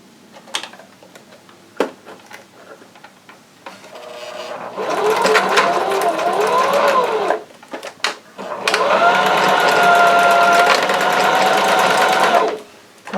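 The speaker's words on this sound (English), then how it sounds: "what I like to do is just put these two pieces of elastic together, and then I just go straight stitch" A sewing machine runs in two long bursts, straight-stitching two pieces of elastic together for pajama pants; a loud, close, rapid mechanical whir with a short pause between runs and quiet handling clicks before.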